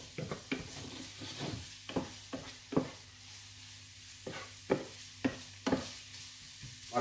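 Carrots and onion stewing in a pan with a quiet steady sizzle, broken by about a dozen sharp scrapes and clicks of a utensil stirring against the pan.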